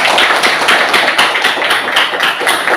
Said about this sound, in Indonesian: tepuk tangan dong buat Najwa.